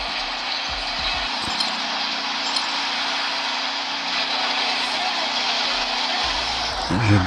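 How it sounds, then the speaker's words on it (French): Jet ski racing game sounds play from a Meizu M3 Note phone: a steady whining engine drone and splashy noise, with a person talking over it throughout. "un jeu en 3D, une course de scooter des mers"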